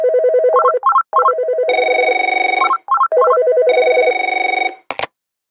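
A call-center telephone in an audio drama rings loudly in repeated electronic trilling bursts, with a steady tone layered in, then cuts off with a brief click at the end.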